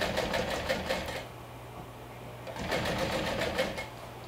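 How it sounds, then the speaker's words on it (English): A sewing machine top stitches a seam allowance toward a bag gusset, running in a fast close whirring burst, pausing briefly, then starting again. "I'm stitching from the inside, grabbing the seam allowance and top stitching it towards the gusset."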